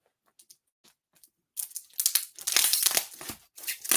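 A screwdriver tearing into a tightly packed parcel, with a few faint scrapes first, then loud close crinkling and ripping of packing material in bursts, no talking.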